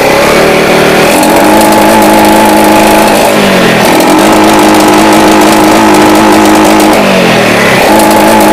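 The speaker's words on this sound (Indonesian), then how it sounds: "bisa dilihat ini knalpot nembak-nembak" A loud Yamaha Jupiter Z motorcycle engine revving up and down repeatedly, its exhaust backfiring, roaring and crackling close by.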